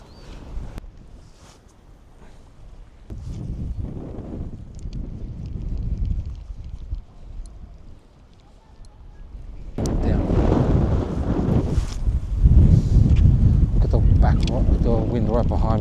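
Wind gusting hard across the microphone on an exposed coastline during a fishing trip in Victoria, rumbling low and loud, easing then surging strongly in the second half, with a voice talking over the blustery noise.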